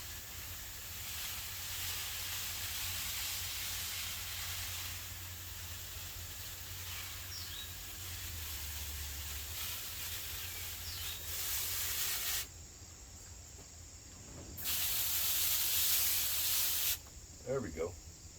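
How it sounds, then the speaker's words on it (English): A spray bottle mists the leaves of a young pawpaw tree outdoors, giving a steady airy hiss over background noise before a brief pause and a second, stronger burst of spray. "I still like to put a little mist on the leaves."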